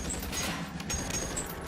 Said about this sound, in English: He's shooting the boss?